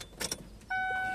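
A car key goes into the ignition of a 2011 Ford Focus 1.8: two or three small metallic clicks, then a steady electronic chime rings out clearly inside the car.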